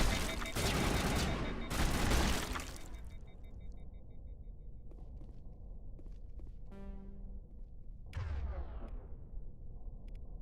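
Assault rifle gunfire in Mass Effect Legendary Edition, the first game: a loud sustained burst of rapid automatic fire for about three seconds, then quieter rumble with a short later burst and sharp sweeping effects.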